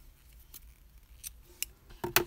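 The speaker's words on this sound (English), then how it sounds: "Now we can cut the yarn." Scissors snip through crochet yarn in a few quick, close cuts, with a couple of louder crisp snips near the end in a quiet room.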